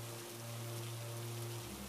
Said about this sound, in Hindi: इतनी बारिश हो रही है, आसमान में बिजली चमक रही है और आग भी ठीक से नहीं जल रही।